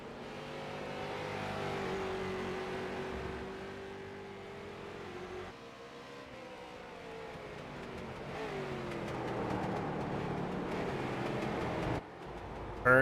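A race car at the Road America circuit accelerates hard, its engine note climbing and holding at a loud, steady roar before easing and building again, with no voices over it.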